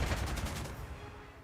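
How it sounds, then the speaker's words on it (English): Aircraft strafing infantry in the Panzer Corps 2 war strategy game bring a quick burst of rapid machine-gun fire that rattles loudly at the start and then fades into a decaying echo within a second and a half. "Guess we might as well strafe the enemy infantry too."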